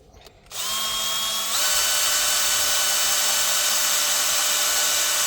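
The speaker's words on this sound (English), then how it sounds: "I hate drilling holes in vinyl and plastic" A cordless power drill spins up and bores into vinyl and plastic trim on a 2013 Ford Mustang seat, a steady high whine that steps up in pitch and continues loud and close without a break.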